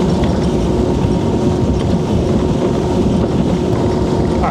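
A boat with a Mercury Pro XS 115 outboard runs at full speed, giving a loud, steady engine roar with water and wind rush that holds constant throughout.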